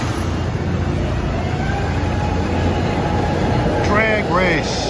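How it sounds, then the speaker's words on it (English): A 34 Baltimore Avenue line trolley in Philadelphia rumbling steadily close by, with rising and falling tonal whines from its motors toward the end. "It's a 34 Baltimore Avenue line trolley."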